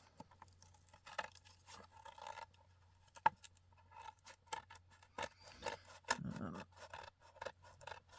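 Small scissors snip through paper for a junk journal in a run of quick, uneven cuts with scraping rasps between them, close up and fairly quiet.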